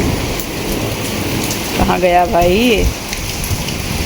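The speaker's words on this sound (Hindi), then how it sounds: "बारिश हो रही है" Heavy rain pours down outdoors in a steady, dense hiss that runs the whole time, with a voice briefly speaking over it midway.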